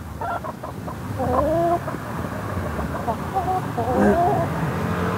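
Chickens cluck and squawk nearby in repeated bursts over a constant farmyard murmur in Pura, Tarlac, with several birds calling at once.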